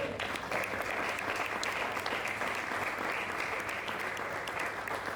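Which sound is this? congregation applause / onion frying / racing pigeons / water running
congregation applause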